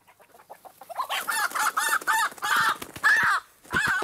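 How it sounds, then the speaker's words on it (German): A rooster in a Swiss residential garden clucks in short bursts that build into a series of loud, close crowing calls, heard alone without talk. "Stört sie den Gückel?"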